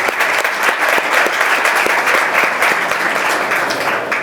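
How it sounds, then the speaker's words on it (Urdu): A church congregation at a Sunday service claps loudly and steadily in a dense, continuous wave of applause that fills the whole stretch without letting up. "ان ساری باتوں کے لیے ہم زوردار تالیاں خداوند کی حضوری میں"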